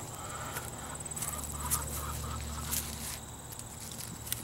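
Chickens in a backyard garden, with soft fowl clucks and scattered short calls over a steady outdoor hum and faint footsteps, moderately distant.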